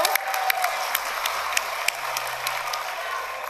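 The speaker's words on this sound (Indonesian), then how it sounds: "Boleh tepuk tangan dulu?" Audience applause at a 2019 presidential debate, a steady crowd of hands clapping with sharper individual claps standing out, continuous throughout.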